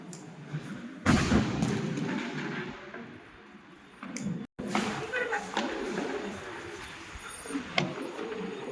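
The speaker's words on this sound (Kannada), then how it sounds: "ನಡೀರಿ ಪಟಾಕಿ ಹೊಡಿಯೋಣ" Diwali firecrackers bursting outside a family home during the festival, sharp loud bangs at irregular intervals with ringing decay between them, one especially strong blast early on, and people talking nearby between bursts.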